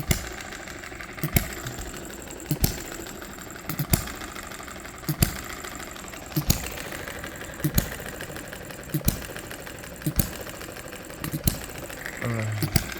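A small 6 cc hit-and-miss engine chugs with regular sharp firing pops roughly every second, a steady rhythmic knock with a faint mechanical hum between beats.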